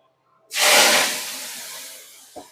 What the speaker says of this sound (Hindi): वाह, क्या तड़का लग गया एकदम मस्त सा